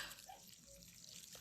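Water poured from a container onto a potted ackee tree at a campsite, a soft continuous splashing and trickling close by that runs through the whole moment without any talk.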